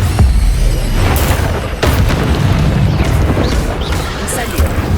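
A Confringo fire spell blast in Hogwarts Legacy: heavy, rumbling booms and sharp bursts stack on a thick, steady roar of game combat, loud and up front for the whole stretch.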